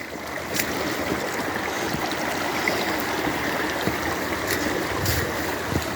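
Lynx Creek runs close by, a steady broadband rushing and gurgling of flowing water with a few faint clicks and knocks, continuous and unbroken with no voices.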